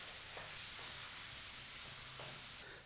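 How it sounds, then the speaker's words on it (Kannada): Finely chopped onion frying in hot oil over a medium flame for paneer bhurji, a steady, close, even sizzling hiss that runs without pause and has faint stirring scrapes underneath. "ಬಿಸಿಯಾದಂಥ ಎಣ್ಣೆಗೆ ಈ ರೀತಿ ಬಹಳ ಚಿಕ್ಕದಾಗಿ ಕಟ್ ಮಾಡಿದಂಥ ಒಂದು ಈರುಳ್ಳಿನ ಹಾಕಿ ಮೀಡಿಯಂ ಫ್ಲೇಮ್ನಲ್ಲೇ 2 ನಿಮಿಷ ಫ್ರೈ ಮಾಡ್ಕೋಬೇಕಾಗತ್ತೆ"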